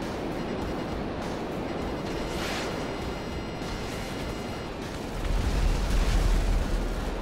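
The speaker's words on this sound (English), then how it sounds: "As soon as you have a lock, fire your rockets." Rocket explosions from the video game GTA 5 Online roll out as a dense, continuous roar, with a heavier boom swelling near the end and no talking.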